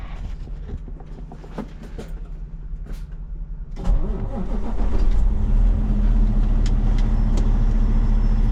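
A semi truck's diesel engine, hitched to a flatbed trailer with a sliding fifth wheel, cranks and catches partway through, then settles into a loud, steady idle close by.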